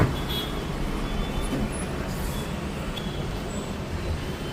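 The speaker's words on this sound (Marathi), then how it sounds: "मित्रांनो ट्रॅफिक बघा गोव्याला. ॲक्च्युली या टाईमला खूप ट्रॅफिक आहे." Road traffic in Goa: a continuous low roar of passing cars, buses and trucks at moderate distance, fairly quiet overall, with no talking.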